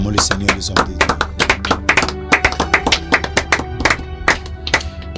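A church congregation claps in rhythmic, uneven bursts of sharp hand slaps, fairly close and loud, repeating steadily for several seconds as worshippers acclaim the Lord.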